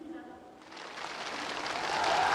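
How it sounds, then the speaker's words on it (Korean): A North Korean military gathering applauds to welcome the defence minister. A voice speaks briefly at first, then a large crowd's clapping rises and swells into a loud, dense, sustained roar. "국방상 동지를 열렬한 박수로 환영해 줍시다"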